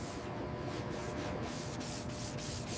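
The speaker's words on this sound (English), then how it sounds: "Wet sanding the primer with a fine grit sanding block for a glass-smooth finish." Steady wet sanding of gray primer on a 1935 Rolls-Royce Phantom II body shell with a fine grit sanding block, a continuous close rubbing hiss with faint stroke pulses and no talk.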